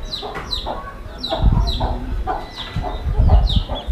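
A broody hen clucks repeatedly in short, close bursts, with other farmyard fowl sounds mixed in and no talking.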